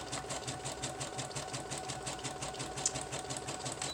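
A sewing machine zigzag-stitches around the edge of a printed book page, making a quiet, rapid and evenly rhythmic whirring clatter with no talk.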